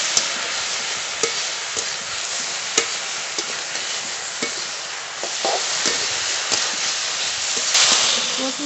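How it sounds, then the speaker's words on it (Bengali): Taro stolons (kochur loti) lightly frying in a pan, a steady close sizzle with sharp stirring scrapes and spatula clicks at intervals throughout, no voices. "কচুরলতি একটু হালকা করে ভেজে নিয়েছি, খুব বেশি ভাজবো না"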